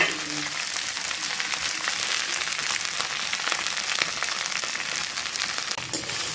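Okra frying in hot mustard oil hisses and crackles in a continuous, fairly loud sizzle, with a few sharper pops near the end and no talking.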